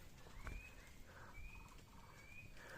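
A faint bird calls three times with short rising whistles, spaced evenly against a quiet, rustling nighttime background in a mountain forest on Mount Ungaran during a storm.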